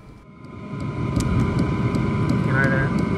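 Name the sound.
DIY diesel heater running, first firing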